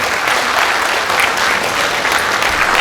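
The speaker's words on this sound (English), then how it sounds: "I request all the audience to have a strong applause in welcoming our Honorable" Loud, dense audience applause welcoming the Chief Minister at a World Human Rights Day 2019 event, a continuous wash of clapping that stays steady from start to finish.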